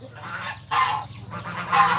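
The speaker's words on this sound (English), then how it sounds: "I'm just feeding the birds. I don't know if you can hear me with them all screaming." A flock of chickens squawks and honks loudly and continuously while being fed in the morning. Dense overlapping calls swell in bursts over a low steady hum.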